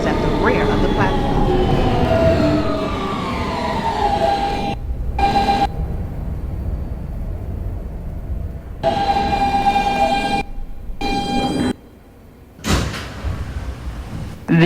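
R160B Siemens subway car on a W train running on the D line, with a loud rumble and rising motor whine broken by abrupt quiet gaps and door sounds, under recorded announcements.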